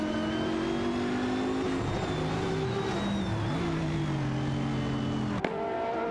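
Ferrari 599 GTO and McLaren 720S racing head-to-head, engines droning steadily with shifting pitch as they hold close together, a sharp click near the end.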